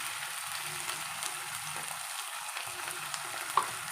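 Ginger garlic paste frying with onions in a pan gives a faint, steady low sizzle with a few soft stirring scrapes and no voices.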